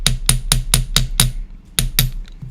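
A hammer flattens the end of a wire to make jewelry headpins, striking in a steady, ringing rhythm of about nine sharp metallic blows with a short pause partway through.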